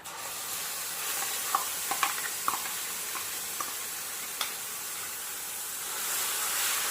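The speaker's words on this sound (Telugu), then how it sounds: "పచ్చడంతా కూడా బాగా నూనెలో కలపండి ఇలా." Chukkakura chutney stirred into hot tempering oil with curry leaves, giving a soft continuous hissing sizzle with a few faint scrapes of the spoon against the pan, heard close and alone.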